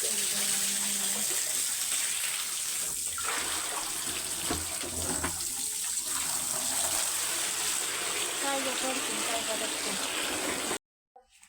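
Water running from a tap, a steady close gushing stream that continues under faint background voices and stops abruptly near the end.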